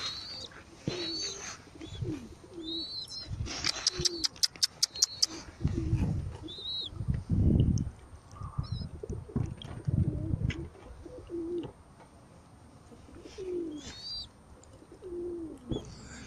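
Pigeons at a feeding and flying session coo in low, repeated throaty bursts, close and fairly loud, mixed with chirps and flutter-like clicks over about sixteen seconds.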